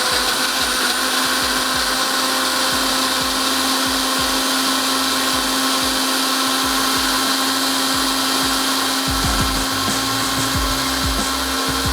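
A blender whirs steadily at high speed, blending a red syrup drink. The motor drone is loud, close and unbroken from start to finish.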